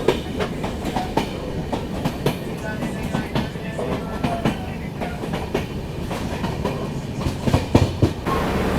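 AC express train between Agartala and Mumbai running through a tunnel, with steady rumbling wheel noise and rhythmic clickety-clack over the rails, heard from inside the coach and filling the whole stretch.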